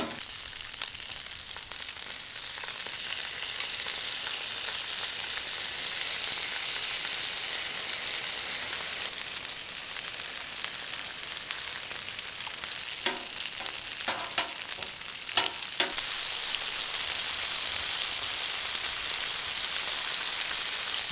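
Natural lard frying on a Blackstone griddle, a dense continuous sizzle and crackle that stays steady and close, with a few scraping stirs near the end.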